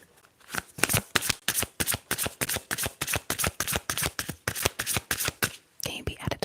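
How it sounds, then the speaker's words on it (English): Tarot cards are shuffled close up in quick, rhythmic riffles, each a crisp papery burst, repeating steadily with brief pauses in a quiet room. "Let's shuffle and see."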